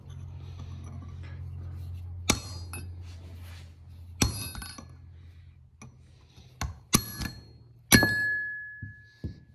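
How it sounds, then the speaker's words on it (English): A cold chisel struck with a hammer knocks at a transmission gear of a Polaris Ranger 800 XP transaxle, giving about five or six sharp metallic clanks spaced irregularly over a low hum, the last one ringing on briefly. "I'm just going to resort to the old cold chisel and hammer."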